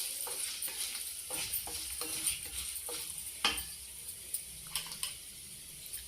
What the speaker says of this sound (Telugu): ఎల్లుల్లిపాయ కొంచెం తాలింపులు వేస్తానండి